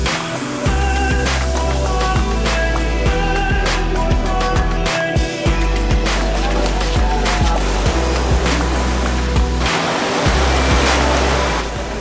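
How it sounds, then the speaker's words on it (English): Waves on the sandy beach at Batu Ferringhi, Penang, roar loudly and continuously with repeated surges and crashes, accompanied by strong rumbling wind noise up close. "I'm actually quite impressed with this beach. It's really decent."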